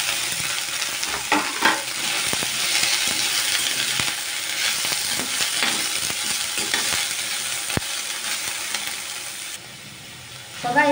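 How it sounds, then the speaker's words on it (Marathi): Paneer cubes fry in hot ghee with a steady, close sizzle, broken by repeated scraping stirs and light clinks of a utensil against the pan throughout. "आता हे आपण पनीर याच्यात टाकून घेऊ तुपात।"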